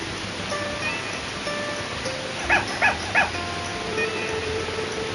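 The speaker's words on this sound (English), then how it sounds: "Guess a couple stray dogs settled in here, and it looks like they've already warmed up to you." In a video game, stray dogs give three quick, sharp barks in a row at moderate distance over a quiet ambient background with faint tones, and no one speaks.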